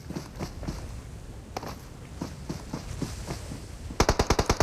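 Gunfire in a battle royale video game during a celebrity showdown match: scattered shots and footstep-like clatter, then a rapid burst of loud, evenly spaced automatic shots at the end.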